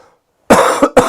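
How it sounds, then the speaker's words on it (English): Three harsh coughs from one person, close and loud, the first longest and the last two shorter, after a short faint silence. "God, this stupid cough."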